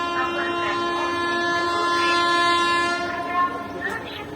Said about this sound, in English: Number platform থেকে through train যাবে অনুগ্রহ করে নিরাপদ দূরত্বে সরে দাঁড়ান।